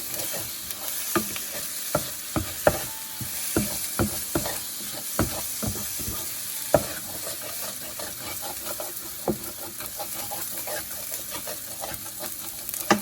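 Egg whites being stirred into fried rice in a hot pan: a continuous sizzle under repeated sharp scrapes and taps of a utensil against the pan, irregular and close, with no talk.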